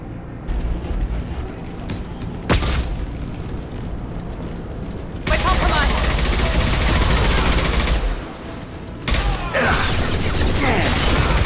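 Sustained bursts of gunfire from Blue Suns mercenaries and Vorcha in the Mass Effect 2 video game, loud and dense, shifting between heavy volleys and brief lulls.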